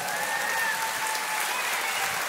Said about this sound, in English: That clap was for the Lord.